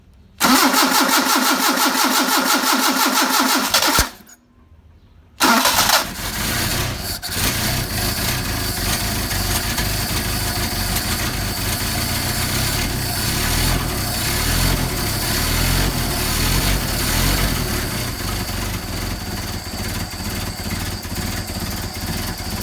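A Mercedes 190SL engine on Solex carburetors cranks and catches after a short pause, then settles into a steady, loud idle with a rough rhythmic pulse, close up, with no talk over it.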